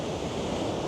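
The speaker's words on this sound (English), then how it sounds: "the waves are crashing in, and oh, it's just cracking" Ocean waves crash against a headland cliff, a continuous broad wash of surf with some wind rumble, heard from above and without any voices.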